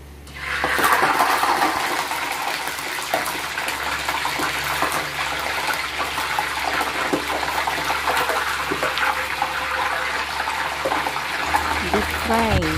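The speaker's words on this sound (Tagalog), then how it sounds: "Deep fry." Chicken pieces deep frying in hot oil, a loud, dense, continuous sizzle and crackle close by that holds steady throughout, with someone speaking over it.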